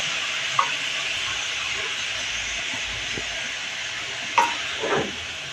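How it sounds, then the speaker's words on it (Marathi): Grated carrots sauté in a pan with a constant gentle hiss, interrupted by a few brief scrapes and taps of a spatula near the start and again toward the end. "छान असं आपण परतून घेऊया"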